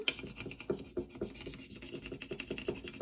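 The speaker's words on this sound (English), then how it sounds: "you can give it a bit of a rub here with your little scraper, just to make sure that it's really down" A small plastic scraper rubs back and forth over a vinyl transfer decal, pressing it down on a graduation gift; close, quiet rasping strokes repeat in a steady rhythm with no voice.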